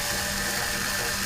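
Continuous close ratcheting of a driver loosening screws that hold a military grade connector, a steady dense clicking rasp throughout a short burst with no pauses.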